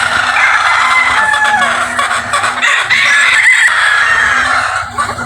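Many breeding hens at a gamefowl farm cluck and squawk together continuously, loud and close, a busy overlapping chorus of poultry calls.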